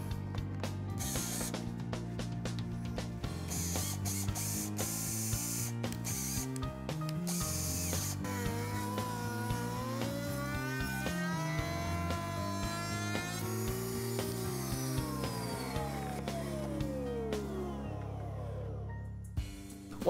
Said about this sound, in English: It's very important to make sure this stays firmly in place while we're using that router.